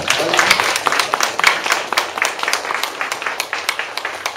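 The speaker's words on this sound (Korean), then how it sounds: "다시 한번 큰 박수 보내드립니다" An audience at a maritime mentoring lecture applauds, a brisk, moderately loud round of clapping from many hands, steady and unbroken throughout with faint background murmur.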